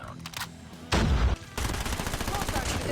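Gunfire from a battle pass rifle in Call of Duty Mobile: a loud close burst, a short pause, then sustained rapid shots rattling on to the end.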